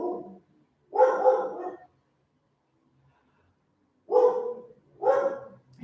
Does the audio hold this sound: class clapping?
no